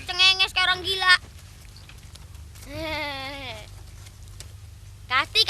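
Voices imitate goat bleats in several wavering, nasal bursts, one long drawn-out bleat in the middle, close and loud against a quiet background.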